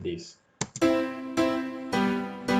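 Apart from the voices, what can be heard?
No distinct noise like a dog, phone or traffic.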